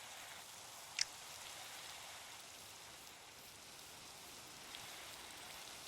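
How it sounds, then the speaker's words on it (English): Steady, soft rainfall in a Minecraft birch forest forms a faint, even hiss throughout, broken by one small tick early on. "we are out of the swamp into the birch forest, but still raining, so soggy"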